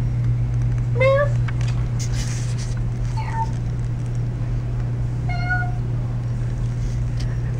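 A house cat meows three times, each call short and rising, spaced a couple of seconds apart over a steady low indoor hum.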